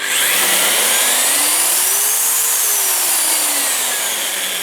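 A DeWalt DWD241 mixer drill with a 160 mm whisk runs continuously, its motor whining loudly and steadily while the pitch slowly rises and falls, with no talking over it.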